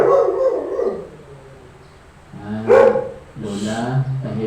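A dog barks several times at close range, loud yips and barks in short bursts separated by pauses, with the murmur of a church service in the background.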